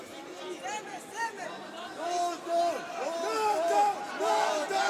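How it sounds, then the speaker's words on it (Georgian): Spectators at an IFC 20 MMA title fight cheer and shout in a steady, swelling roar, with voices rising and falling in waves and brief louder surges throughout. "აი როგორ გულშემატკივრობენ"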